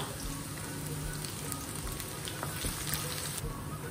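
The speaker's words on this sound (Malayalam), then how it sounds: "അതിനകത്തോട്ട് ഞാൻ ആ സ്പ്രിംഗ് ഓണിയൻ്റെ വെളുത്ത ഭാഗം ഇട്ട് കൊടുക്കുകയാണ്." The white part of spring onion is frying in about three tablespoons of oil, an early step for chili chicken. It gives a steady, fairly quiet hissing sizzle throughout, with no talking.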